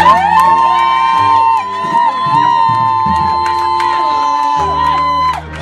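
Church congregation shouting and cheering together during a service, a loud crowd roar sustained for several seconds with scattered whoops above it.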